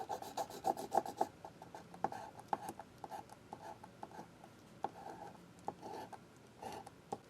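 Close, quiet rubbing strokes as the smooth end of an X-Acto knife burnishes mending tissue into a comic book spine, an uneven series of soft scrapes and light taps.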